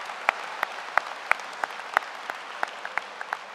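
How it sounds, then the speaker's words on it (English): Sparse applause at the 2022 Utica High School graduation ceremony, with distinct individual claps landing in a loose, even rhythm over a soft background of scattered clapping, close and moderately loud. "Let's give these people a round of applause"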